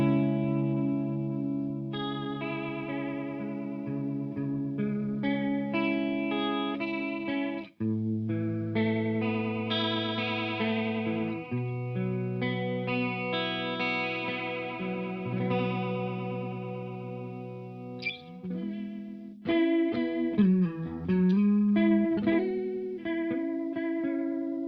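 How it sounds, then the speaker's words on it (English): An electric guitar runs through a Walrus Audio Julianna stereo chorus pedal, playing sustained chords and melodic lines whose shimmering, wavering modulation deepens and speeds up as the rate and depth rise. "So obviously we'll go from a more subtle sort of chorus and effect to a more extreme one."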